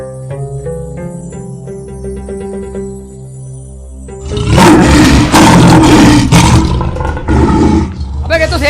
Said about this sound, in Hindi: अबे ये तो शेर की आवाज है सालो।